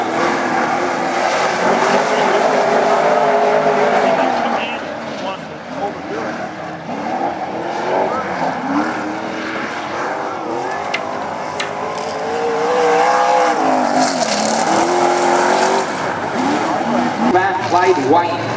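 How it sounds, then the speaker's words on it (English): Modified race car running on a dirt raceway during qualifying, a loud, continuous engine drone with pitch that sweeps up and down as it laps, with a commentator talking over it. "listen to how quiet that car is"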